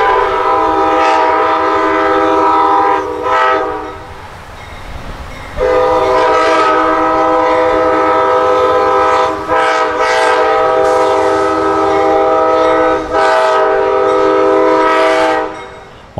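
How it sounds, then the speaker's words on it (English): Amtrak's southbound Silver Star passenger train rolls past, heading toward its Tampa stop. Loud, sustained layered horn blasts sound over the continuous rumble of the train, with a brief dip in the middle. "Amtrak train 91, the southbound Silver Star, is rolling toward its Tampa stop."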